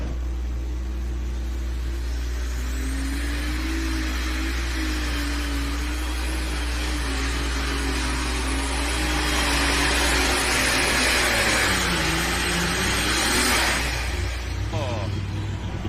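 An open Super Stock class pulling tractor, able to run on alcohol or diesel, revving hard during a tractor pull run: a loud sustained engine roar that builds in pitch and intensity, with a commentator talking over it.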